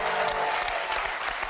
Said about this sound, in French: Je voudrais quand même qu'on l'applaudisse super fort Abdel